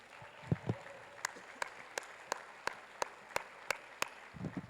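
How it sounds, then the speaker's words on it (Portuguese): A church congregation claps during a sermon, with slow, regular, sharp claps spaced about a third of a second apart over a quiet room and faint murmurs at the start and end. "Se é para Ele, aplauda Ele."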